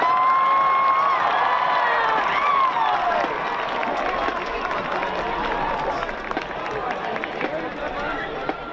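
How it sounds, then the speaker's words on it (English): A big stadium crowd at a high school football game claps and cheers steadily for a marching band, a dense, loud wash of applause with whistles and shouts, slowly tapering slightly toward the end. "applause for the Nashua High School South Marching Band."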